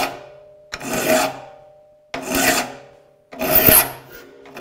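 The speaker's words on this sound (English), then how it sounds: "I'm filing each tooth and I'm watching the flats on the tops of each tooth" A hand file rasps across the teeth of a rip hand saw in three long strokes, each a steady gritty scrape separated by short pauses, close and clear with no talking.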